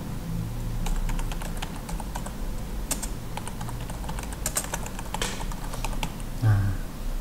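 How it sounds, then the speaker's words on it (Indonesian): Close, steady typing on a computer keyboard in Microsoft Word: rapid irregular key clicks over a constant background hum, with no talking. "coba kalian ketikkan di layar ya, di komputer kalian masing-masing, misalkan nama kalian"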